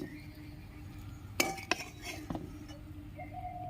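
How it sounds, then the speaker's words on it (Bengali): A ladle stirs egg pulao in a metal pot with a few sharp, faint clinks and scrapes spaced over a quiet kitchen background, followed by a brief soft tone near the end. "ভালো করে নেড়ে চেড়ে নেব"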